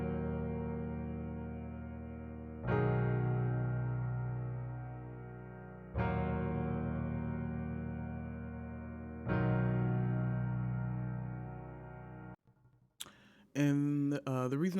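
Piano chords rolled with a strum effect for a dark trap beat, three loud chords each ringing and slowly fading, then a few short, clipped sounds at the end.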